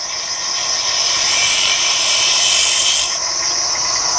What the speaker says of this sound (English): I'm hollowing out this finial box here